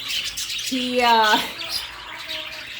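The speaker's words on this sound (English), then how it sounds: "we have approximately 53 birds now in our aviary" Rescue birds in an aviary housing about 53 birds give a single clear rising squawk in the middle, with faint chirps and chatter around it, fairly close.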